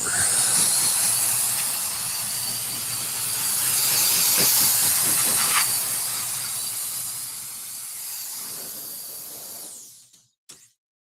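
A pricey hair blower running: a loud, close, steady rushing hiss of air that swells slightly midway and cuts off abruptly near the end, with a couple of small clicks after.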